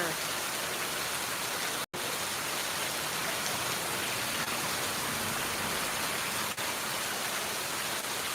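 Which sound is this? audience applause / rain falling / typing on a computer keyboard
rain falling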